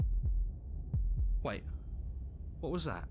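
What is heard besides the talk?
heartbeat from the video game Slay the Princess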